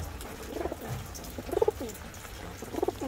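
Tippler pigeons, a hen and a cock kept in a loft, give soft low coos in three short bursts at close range over quiet background hiss.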